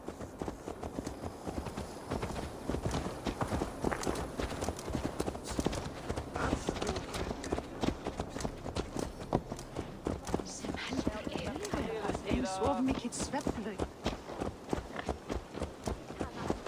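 Horse hooves clip-clop steadily in Assassin's Creed Valhalla, a brisk rhythmic gait running throughout under continuous talk and game sounds.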